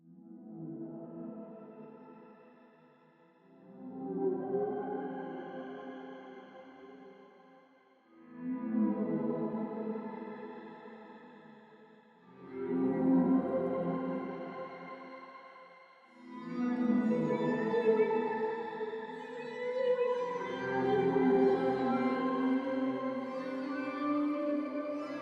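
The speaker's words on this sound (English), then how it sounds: "Here's a fun shimmer reverb one called Mystical Ocean" Aquatic Harp played through the Mystical Ocean shimmer reverb preset: a sequence of swelling, washed-out harp chords that ring with airy, echoing shimmer and fade between phrases, rising in brightness toward the end.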